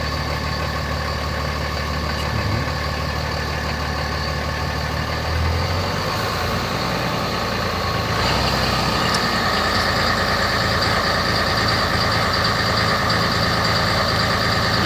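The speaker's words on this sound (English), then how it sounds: "Now we're going to put it up on fast idle" A Cummins 5.9 diesel engine running steadily at fast idle, a continuous loud mechanical drone with a slight shift in pitch partway through and no voices.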